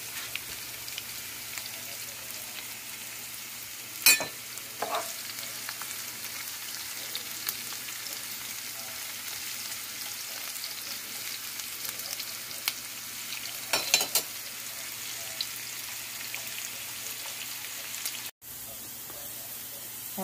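Panch phoron spices crackle in hot oil for a vegetarian hyacinth bean dish, a soft, steady sizzle with a few brief pops and clatters, low and continuous throughout with no talk.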